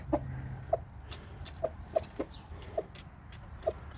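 A rooster calling its hens gives short, repeated clucking calls, about six spaced bursts over a few seconds, standing out clearly against a low background hum.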